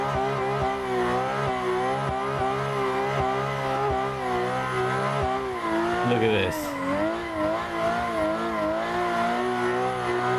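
A drift car in the Assetto Corsa racing game holds a steady, loud, revving engine drone with sustained tire squeal and shifting pitch as it slides, while someone talks briefly over it.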